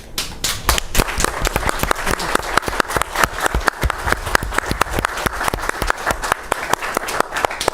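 An audience at a panel discussion on faith and Russia's war in Ukraine gives a round of applause for an ambassador: dense, sustained clapping from many hands with sharp individual claps standing out, close and loud throughout.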